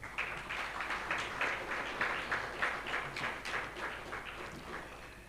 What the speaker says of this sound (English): Distinguished ladies and gentlemen, please, a round of applause as we make welcome for Engineer Rabiu